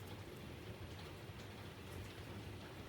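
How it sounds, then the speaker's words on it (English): Heavy rain pours steadily outside, a dense, continuous hiss of drops drumming on surfaces with no pauses, fairly soft and even throughout, with no one talking. "I don't know if you can hear it or not, but it is just raining cats and dogs."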